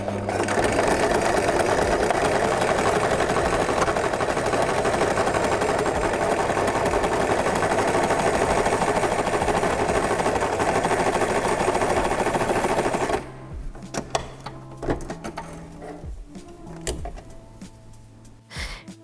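A sewing machine stitches a zigzag seam on stretchy t-shirt fabric, whirring loudly and continuously for about thirteen seconds before stopping, followed by scattered clicks and handling noises.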